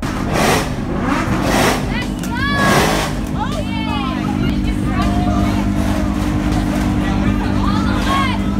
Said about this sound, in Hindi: जो बीच सड़क में अपनी महंगी लैम्बोर्गिनी खड़ी करके शो मार रहे थे